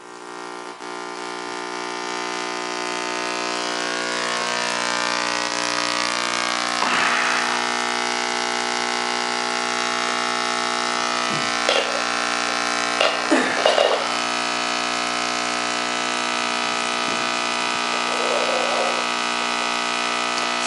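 A solid state Tesla coil runs without a top load, giving a steady, loud electrical buzz with dense harmonics that holds throughout, broken by a few brief crackling bursts.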